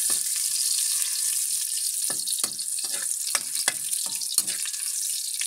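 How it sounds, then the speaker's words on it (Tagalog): Onion and garlic sauté in a hot pan until golden, giving a continuous close hiss of frying broken by a series of sharp scraping stirs. "Papadilawin lang natin yung sibuyas sa bawang."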